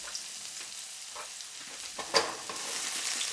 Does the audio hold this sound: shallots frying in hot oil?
yes